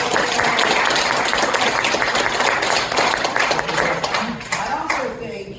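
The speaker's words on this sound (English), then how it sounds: "Give him a round of applause" An audience at a Falmouth city council meeting applauds the mayor with dense, steady clapping that fills most of the moment and then thins out, with voices rising near the end.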